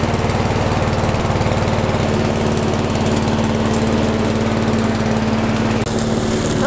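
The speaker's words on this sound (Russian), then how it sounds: "И косилка готова к работе. Теперь пробуем запускать." A Champion 5347 self-propelled gasoline lawn mower engine runs loud and steady up close, a constant buzzing drone with a brief dip near the end.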